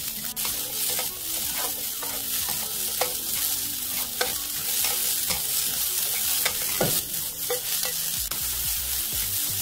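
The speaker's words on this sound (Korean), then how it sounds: "강불에서 오이 속살과 껍질을 따로따로 분리해서 빠르게 볶아냅니다" Cucumber flesh and peel stir-fried fast in an oiled pan over high heat: a steady, loud sizzle runs throughout, with scraping and stirring knocks from the spatula and no talking.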